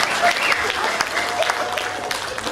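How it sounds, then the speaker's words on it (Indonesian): An audience at a Democratic Party consolidation gathering in Bengkulu applauds steadily, a dense wash of many hands clapping at moderate distance for a couple of seconds. "Tepuk tangan untuk bukan itu dong."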